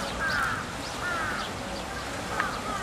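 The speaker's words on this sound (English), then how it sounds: "all the crows having a bath" Crows or ravens bathing in Japan give repeated harsh caws, three clear calls spaced about a second apart over a steady broadband wash of background noise.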